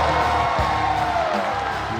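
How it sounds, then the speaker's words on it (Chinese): An arena crowd at a basketball game featuring Stephon Marbury's J-Team cheers and applauds in a continuous roar, loud and diffuse for the whole two seconds. "来掌声。"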